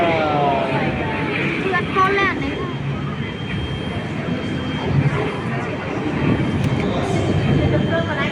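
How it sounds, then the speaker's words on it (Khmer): A train rolls past during a Khmer New Year outing in Cambodia, a steady broad rumble with rattling wagons that holds for several seconds while people talk nearby. "រថភ្លើងនោះមកវិញហើយ"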